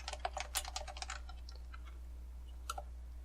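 Computer keyboard keys pressed one at a time during a Raspberry Pi programming test, a quick burst of close, crisp clicks followed by a few sparser taps against a steady low hum.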